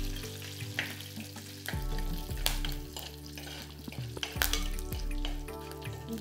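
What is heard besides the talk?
green chilies and curry leaves frying in oil, stirred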